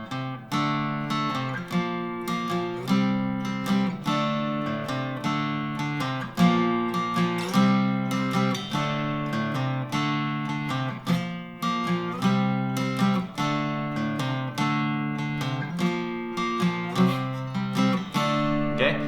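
Guitar riff from an unplugged song played over and over, chords struck in an anticipated, pushed rhythm, steady and moderately loud with no talking.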